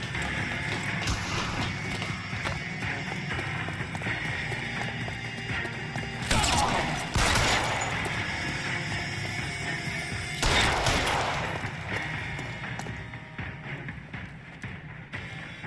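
Gunfire in the video game L.A. Noire, two loud bursts of shots cracking out over a background of game sounds and mechanical noise, with no one talking.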